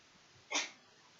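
A single short sneeze bursts out during a quiet statistics class, faint and a little distant, rising sharply and trailing off against low room noise.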